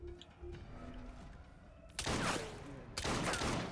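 Gunshots in Assassin's Creed Syndicate, set in Victorian London: two loud, booming shots about a second apart, each with a rumbling tail, following a quieter stretch of game ambience.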